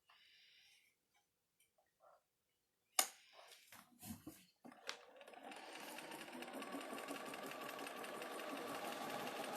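Quilting sewing machine stitching nested fabric pieces together, starting after a few soft taps and a brief pause, then a steady close whirring hum that runs quietly to the end.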